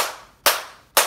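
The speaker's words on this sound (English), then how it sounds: "Now this one we're gonna have to clap camera." Two sharp, loud hand claps about half a second apart, each fading quickly, made to sync camera and audio on a cooking video shoot.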